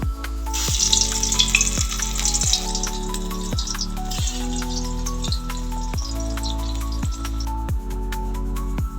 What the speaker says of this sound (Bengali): চাল কুমড়োর মধ্যে পুর দিয়া এটা ভেজে নাও।